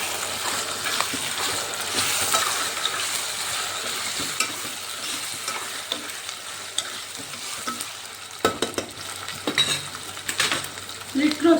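Capsicum frying in a pan for an aloo capsicum curry, a steady close sizzle with stirring scrapes and occasional utensil clinks running throughout, no voices.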